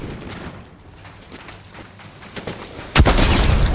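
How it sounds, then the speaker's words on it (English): A heavy boom from the Iron Warrior Heavy Impact Sniper Rifle in Fortnite lands near the end after quieter game ambience and small clicks, one loud close shot with a rumbling tail. "Iron Warrior Heavy Impact Sniper Rifle."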